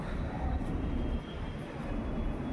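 Low rumbling metro train noise at a metro station in Majestic, Bengaluru, with a steady mechanical hum and faint whine, fairly close, dipping slightly midway, with no talking.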